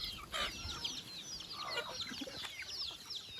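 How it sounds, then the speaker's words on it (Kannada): Free-range country chickens cluck and chatter softly while pecking at scattered vegetable scraps, with several overlapping calls heard at a moderate distance over a quiet outdoor background. "ಅದನ್ನು ತಂದು ಹಾಕಿ ನೋಡಿ ಯಾವ ರೀತಿ ತಿಂತಿದೆ ಕೋಳಿ"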